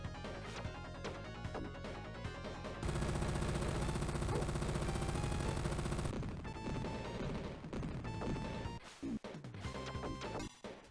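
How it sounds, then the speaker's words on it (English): Rapid machine gun barrage fired by a boss in the Sega Genesis game Shinobi III, a dense, loud burst of game gunfire over music and crash effects, sustained for several seconds. "then he tries to mow you down with a machine gun barrage"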